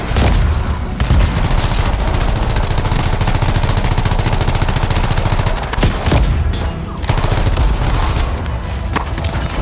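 Sustained rapid automatic gunfire in the video game Anthem, a loud, dense, rattling stream of shots with brief gaps and occasional heavier impacts.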